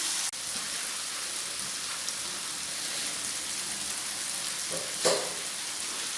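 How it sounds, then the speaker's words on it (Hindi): Mash daal lentils hit a hot pan with chilli powder and sizzle in a steady, fairly quiet crackle, with a brief louder stir or clatter near the end. "व्यूअर्स, अब हम इसमें दाल डाल देंगे।"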